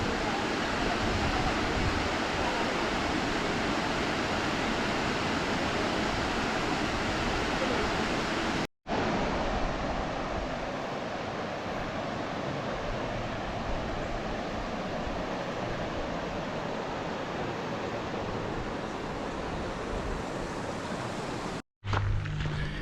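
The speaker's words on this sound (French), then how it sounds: "cascade de Serpentine." Serpentine Falls waterfall pouring in a steady, dense roar that stays loud and unbroken throughout, with two brief dropouts.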